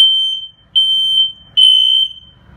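Household smoke detectors sound during a test, giving three loud, high-pitched electronic beeps, each lasting about half a second to a second with short gaps between them, heard alone and close.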